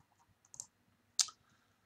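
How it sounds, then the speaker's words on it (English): Two quick bursts of keyboard clicking, a short cluster then a sharper clack, close and fairly quiet with near silence between. "I'm typing them in, so give me a second."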